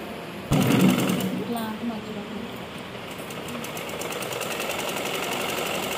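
A sewing machine stitches fabric with a steady rapid whirring hum that starts with a brief loud clunk and then runs continuously, while someone talks over it.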